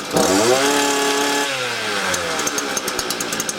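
A HYMT5200X petrol engine runs just after a cold start, revving high and loud, then settling down toward a lumpy idle with regular popping firing pulses, close by.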